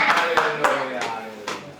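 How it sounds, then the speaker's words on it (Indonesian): A church congregation claps at a steady quick beat during a service, with voices mixed in under the claps. "Berikan sorak-sorai buat Tuhan yang dahsyat dan luar biasa"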